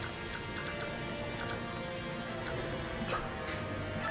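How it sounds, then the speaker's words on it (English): Heavy rain in a video game pours down steadily, a dense constant hiss with scattered drops ticking and pattering on a surface throughout. "Damn, it's raining hard."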